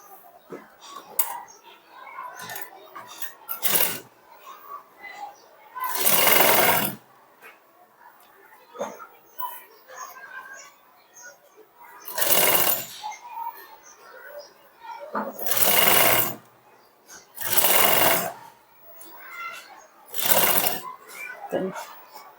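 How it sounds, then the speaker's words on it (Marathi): A sewing machine stitches a sleeve, running in several loud bursts of rapid mechanical whirring separated by pauses, with a person talking quietly in the gaps. "नंतर आपल्याला शिलाई मारायची आहे"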